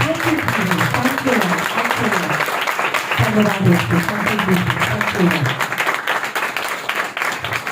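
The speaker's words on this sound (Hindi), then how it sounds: "तालियों के साथ" A church congregation claps loudly at a Sunday sermon, steady dense applause throughout while voices call out and someone speaks over it.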